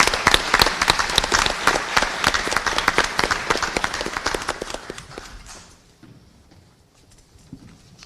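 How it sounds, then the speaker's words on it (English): An audience at a school board monthly meeting breaks into applause, a dense burst of clapping that stays strong for several seconds, then thins and fades out, leaving a quiet room. "So a round of applause for Lisa, please."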